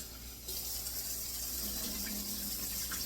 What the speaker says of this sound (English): I'm going to take some fresh cold water and just run them over the potatoes.